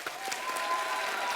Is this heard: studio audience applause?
yes